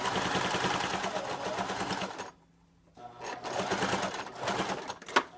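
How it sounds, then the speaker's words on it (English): A sewing machine stitches a fabric face mask in fast, steady runs, pausing briefly near the middle before resuming, with a sharp click near the end. "you keep sewing."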